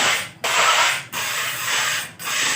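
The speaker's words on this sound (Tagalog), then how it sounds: "gamit itong paleta or kahit itong rodelang bakal, nililinis muna" A steel trowel scrapes a wall clean before a skim coat, knocking off small bumps of sand and grit: three close, loud, gritty strokes separated by brief pauses.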